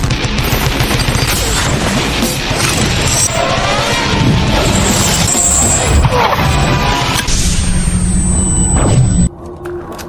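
In a film scene an RPG rocket strikes Johnny, setting off a loud, dense crash and rumbling explosion with clattering debris that suddenly cuts to quieter sound near the end.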